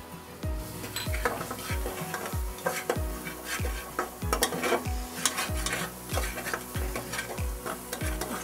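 A metal spoon stirs vajari masala in a pan, each stroke scraping with a regular rhythm over a steady sizzle of frying, close and distinct with no talking.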